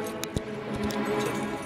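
Car keys jangle briefly, with a few light metallic clinks inside a parked car, faint against low background hum.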